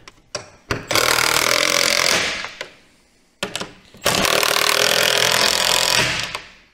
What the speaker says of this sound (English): and then we run them in with the impact gun.